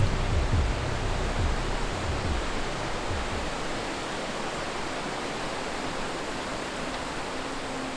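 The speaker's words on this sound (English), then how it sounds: "With the sound of distant water running down the mountain" Broad, steady rushing of distant water running down a mountain valley in a forest, a continuous even wash with a few low thumps early on, no voices.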